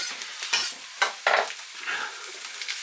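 Roughly chopped garlic, a whole head's worth, hits a large pan for a homemade smoky BBQ sauce, giving a close crackling sizzle with a few sharp bursts and scraping stirs, no talking.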